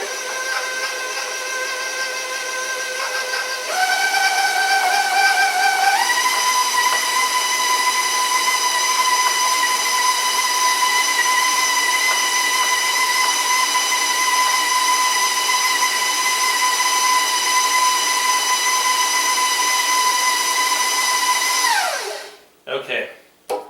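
A handheld electric mixer beats vanilla-scented cookie dough in a steady, loud motor whine that climbs in pitch twice as the speed is raised, then winds down and stops near the end.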